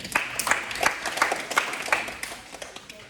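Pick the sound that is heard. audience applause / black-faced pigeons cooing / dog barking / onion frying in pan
audience applause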